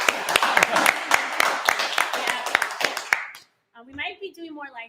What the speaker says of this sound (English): So huge round of applause for Layla. Woo!